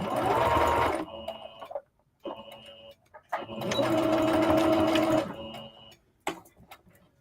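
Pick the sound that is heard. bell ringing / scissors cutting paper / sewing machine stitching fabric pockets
sewing machine stitching fabric pockets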